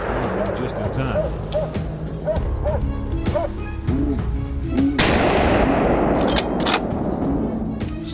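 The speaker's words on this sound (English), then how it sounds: "a well-placed shot from behind to drop one of them just in time" Rifle shot fired from an ambush at a herd of wild boars raiding a Texas cornfield, a loud sharp crack near the five-second mark rising over a busy background of voices and outdoor noise.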